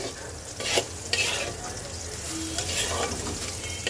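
Small mola fish with taro and spices frying in a pan while being stirred, a close sizzle broken by several sharp scraping strokes of the spoon, with no voices.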